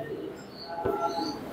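Andalusian and American Show King pigeons coo softly in a loft, faint low murmuring calls with a slightly louder coo near the middle.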